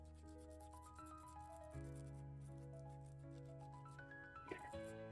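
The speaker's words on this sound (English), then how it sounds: "just start to give them a little sand down some of these bubbles" Wet sanding with water rubs across bubbles on a terrazzo resincrete frog figure, a soft steady scratchy scrub heard close and quiet beneath a sustained electronic tonal drone.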